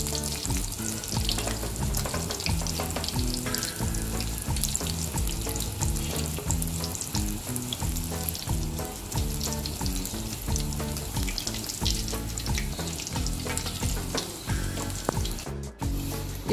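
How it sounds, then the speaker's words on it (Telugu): Eggplant deep frying in hot oil in a pan, a loud, steady sizzle and crackle that runs without a break, with no voices. "ఇదే విధంగా మిగతా అన్ని వంకాయల్ని కూడా డీప్ ఫ్రై చేసుకోవాలి"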